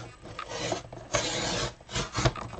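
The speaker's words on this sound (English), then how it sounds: "this one might be better using the guillotine trimmer" A guillotine paper trimmer slicing through card stock for a slimline card, heard as a few short rasping, scraping strokes with soft bursts, close by and with no talk.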